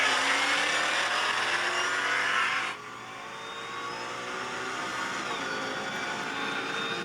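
A Red Eye-swapped Chrysler 300 races a Mustang GT, with loud, steady engine roar throughout; the sound drops sharply in level partway through, then holds as a quieter, continuous drone.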